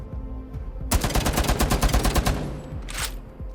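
Rapid automatic gunfire from the shooting range in Rainbow Six Siege, a loud close burst of about a dozen evenly spaced shots lasting over a second, then a short tail and a brief metallic clatter.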